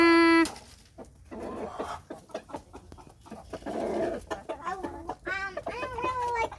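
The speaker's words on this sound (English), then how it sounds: "big chickens. And it's snack time. Can you show them which one the rooster is?" Big chickens and a rooster cluck on a farm after a brief high-pitched call at the start; the clucking is close and moderately loud, and voice-like calls rise near the end.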